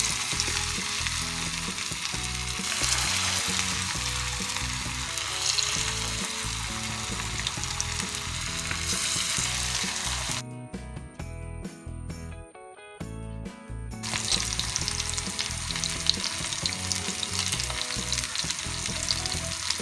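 Chicken pieces deep frying in hot oil give a loud, constant crackling sizzle that drops to a quieter stretch partway through, then rushes back at full strength.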